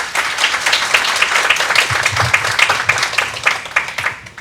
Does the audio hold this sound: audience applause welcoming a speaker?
yes